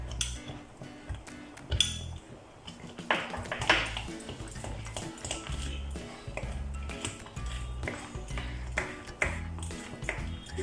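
A metal spoon clinking and scraping against a pan while ghee is stirred into Bombay halwa, irregular bright taps and pings repeating throughout over music, fairly quiet and close.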